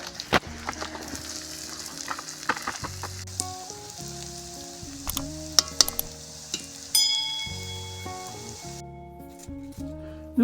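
Onion frying in a pan over an outdoor campfire at night, a soft crackling sizzle with scattered ticks and clinks of stirring, fairly quiet and continuous.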